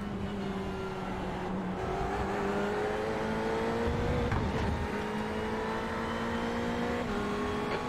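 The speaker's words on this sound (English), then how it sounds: "now for a moment I let you alone with the fantastic sound of the Ferrari for half a lap of Road" Ferrari race car engine lapping Road America in a racing video game, a steady loud drone with rising and falling pitch through gear changes, continuous and unbroken for the whole stretch with no voices.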